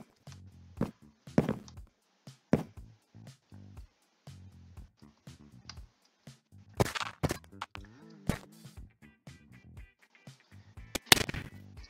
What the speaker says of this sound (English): There, fireworks.